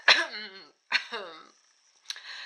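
Three short, throaty coughs up close, the first two strong and raspy, the last softer after a brief pause.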